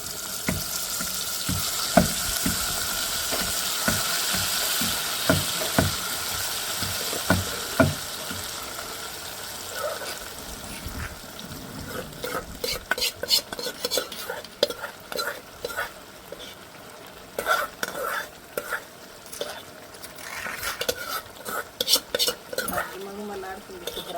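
Cooked dal is stirred into a sizzling onion tempering for Andhra gongura pappu. Frying hiss fades as the liquid goes in, followed by repeated close spoon scrapes and clinks against the pot.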